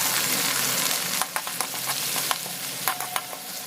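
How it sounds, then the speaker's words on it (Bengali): Chopped garlic frying with browned onions in a pan for a Bengali cauliflower-leaf and shrimp dish gives a loud, continuous close sizzle broken by sharp stirring scrapes and clicks. "কুচনো রসুন দিয়ে রসুনটাকে আমি এক মিনিটের জন্য কুক করে নেবো"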